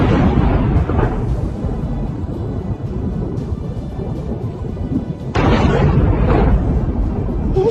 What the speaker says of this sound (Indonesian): menunjukkan betapa dahsyatnya ledakan rudal Iran di